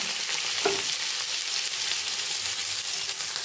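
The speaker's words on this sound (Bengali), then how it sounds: "পেঁয়াজটা আমি একটু হালকা সোনালি করে ভেজে নেব।" Thinly sliced onions fry in a pan over a cumin tempering, giving a steady, close sizzle throughout with a brief stir near the start and no talking.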